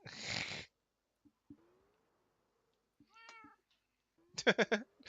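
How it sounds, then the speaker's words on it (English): A cat meows close by: a few separate, fairly quiet calls with faint squeaks between them, and a longer, wavering meow at the end, with near silence in the gaps. "Sudden cat noise."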